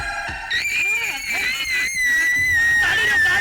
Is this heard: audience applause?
no